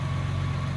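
A Jaguar MKII engine idles just under 1,000 RPM, a steady, low, rumbling drone with an even throb, close and continuous, no voices over it.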